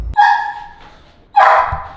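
A large dog barks twice nearby, loud and sharp, with a short gap between the two barks.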